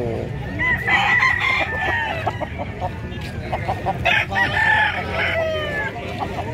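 Chickens at a livestock market in San Carlos City, Pangasinan, cluck and crow close by in a busy, noisy setting, with a murmur of people underneath.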